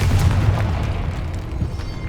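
In the video game Hogwarts Legacy, a Confringo blasting spell explodes in a tomb: a loud, deep boom that rumbles and slowly fades over about two seconds.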